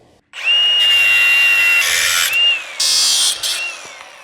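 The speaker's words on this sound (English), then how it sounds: "let's cut this off" A loud power tool grinding and cutting through a metal ball-and-socket piece during a restoration of a 1964 Chevelle El Camino, a steady high whine with bursts of harsher cutting noise and a brief dip between them.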